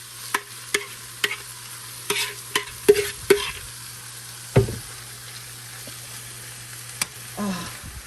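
Chicken fries in an oiled pan for nachos with a continuous sizzle, broken by a series of clinking, scraping stirring knocks spaced irregularly throughout, close and fairly loud.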